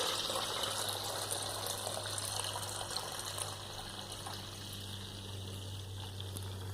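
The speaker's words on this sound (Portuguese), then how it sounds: "Eu acabei de tirar da geladeira e vou acrescentar a água" Room-temperature water pours steadily from a container into a bread yeast starter, a continuous gushing splash that holds even and fairly loud for several seconds under a low hum, with no talking.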